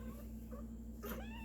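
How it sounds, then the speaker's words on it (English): A Bengal cat makes a weird, brief warbling vocal call, faint and close over a steady low background hum, rising into a short strained yowl near the end. "The Bengals can definitely make some really weird sounds."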